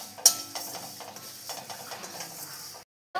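Dry fennel seeds and chilli being stirred in a kadai, a steady scraping and rattling of spoon against metal with small ticking clicks, close and fairly quiet, ending in a brief silence and a final scrape.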